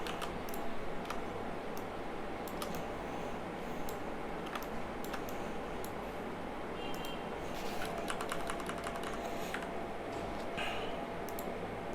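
Typing on a computer keyboard while a button is built in Adobe Illustrator CC: scattered clicks and short bursts of keystrokes over a steady, loud background hum, with no talk.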